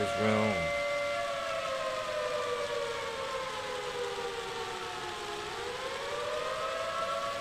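A loud wailing siren rises and falls in long sustained tones, dipping and climbing again, filling the whole stretch.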